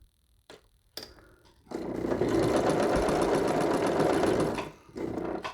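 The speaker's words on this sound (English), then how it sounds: "Pull the bag out to make sure I'm not sewing more than the one layer." A sewing machine stitches along the edge of a quilt storage bag, starting with a few short bursts before settling into a steady, loud, close whir that runs for about three seconds. It pauses, then resumes briefly.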